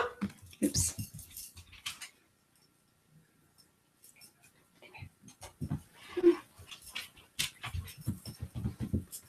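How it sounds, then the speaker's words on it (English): A dog heard up close indoors, with short bursts of panting and movement noises and soft whimpers, spread through the clip between quieter stretches. "I'm gonna let my dog out before I get started so it doesn't distract me."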